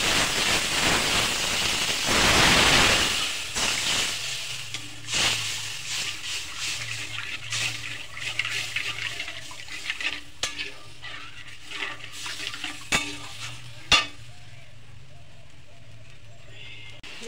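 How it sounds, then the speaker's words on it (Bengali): Coconut milk poured into a pan of fried-down spices for a pointed gourd curry, starting as a loud gushing sizzle that settles into a steady low bubbling with scattered stirring clinks. "এবার আমি নারকেলের দুধটা ভিতর দিয়ে দেবো"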